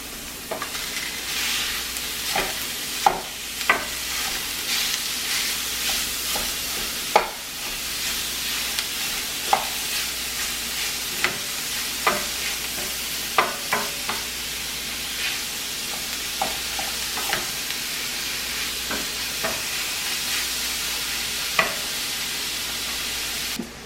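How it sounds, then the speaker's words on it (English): Ground meat browning in a pan gives a continuous bright sizzle, broken by frequent scrapes and taps of a utensil stirring it. "I'm going to get this meat in the pan"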